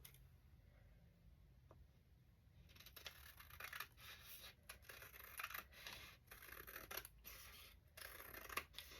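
Scissors snip through beige cardstock for a scrapbook layout in a run of close, quiet, crisp cuts after a short silent start.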